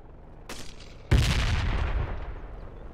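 Incoming mortar fire in the video game Project Reality: a faint distant crack, then a heavy booming impact with a long rumbling tail.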